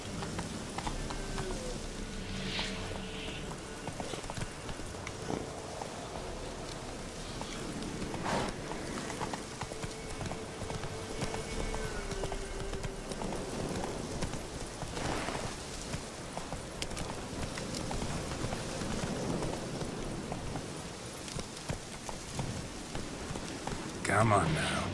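Horse hooves clip-clopping in The Witcher game as Geralt rides, a quiet rhythmic gait heard under spoken lines with ambient rain-like background noise.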